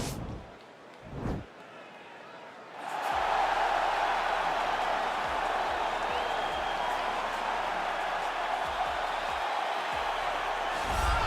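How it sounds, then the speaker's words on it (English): Arena crowd at a UFC heavyweight title event roaring and cheering as the fighter makes his walk, a loud sustained wall of noise that swells up after a brief quieter opening. "Well, you hear the pop from the crowd, DC, as Nate Diaz gets set to make this walk"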